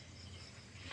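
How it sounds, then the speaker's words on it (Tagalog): Crickets chirping at night in rural Filipino fields, a steady faint insect trill forming a continuous bed of sound with a slightly louder swell near the end, no voices. "Mga kuliglig ang maririnig."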